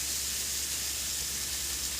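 Diced bacon sizzles in a small skillet heated to the smoking point, giving a steady, bright hiss that stays even throughout.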